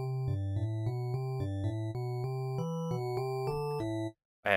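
A wavetable synthesizer voice with FM modulation switched off plays a quick sequence of steady, sustained tones stepping between pitches, clean and even, stopping abruptly at the end.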